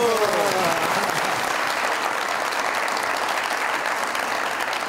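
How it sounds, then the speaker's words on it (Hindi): Studio audience on a Pakistani comedy talk show bursts into dense, loud applause that holds steady for several seconds, with a voice briefly audible at the very start. "बहुत सारी तालियां इनके लिए"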